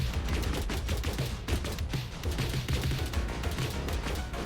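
Rapid continuous automatic fire from a ship in a deck-builder video game, a dense rattling stream of shots at steady loudness with no gaps, no speech over it.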